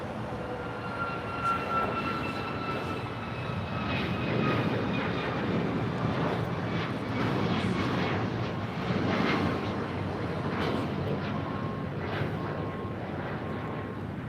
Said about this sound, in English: Flight 1883 taking off to Miami on a MAX 8